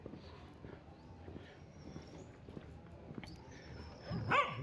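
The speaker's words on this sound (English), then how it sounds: "and there's another dog over here and this barky one in the street." A dog barks sporadically in an open street in Leon, Nicaragua, with scattered light thumps and a louder yelp near the end.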